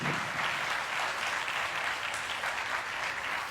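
Sustained applause fills the hall at a speech by EELV's new national secretary, many hands clapping in an even, continuous roar that neither swells nor fades across the stretch.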